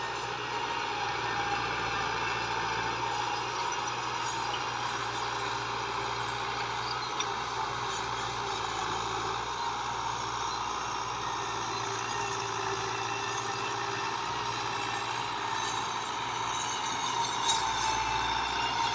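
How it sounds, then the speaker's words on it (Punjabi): An 85 HP New Holland tractor pulls a 7-tine chisel plough through a field, its engine a steady loud drone with a constant low hum and throbbing, continuous and close, without talk. "ਟਰੈਕਟਰ ਸਲਿੱਪ ਦੇਖ ਲਓ ਕਿੰਨੀ ਮਾਰਦੇ ਆ।"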